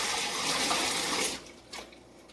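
Tap water runs steadily as dandelion greens are washed, a soft splashing stream lasting just over a second before cutting off, followed by a few faint drips and handling sounds.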